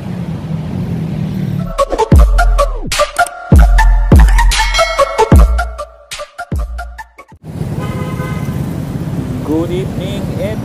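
Night road traffic on EDSA heard from a motorcycle, with engine rumble, passing vehicles and repeated horn toots in short bursts, then someone talking over the steady roadway noise.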